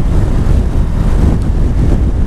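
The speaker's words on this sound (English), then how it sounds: "Pretty gnarly crosswinds right now." Steady, heavy crosswind roaring and buffeting against a microphone while riding a Ducati Multistrada 1260 Pikes Peak motorcycle, a loud continuous low rumble throughout with no voices.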